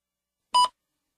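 Single short electronic beep, clean and isolated, marking the start of a timed spoken response in a test recording, surrounded by silence.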